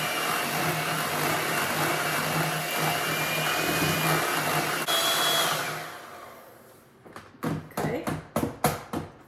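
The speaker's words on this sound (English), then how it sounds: "now I'm gonna mix all these ingredients together until it's well combined" Electric mixer whirring steadily as ricotta, lemon and blueberry tart filling is blended, then stopping, followed by a series of short clattering scrapes and knocks.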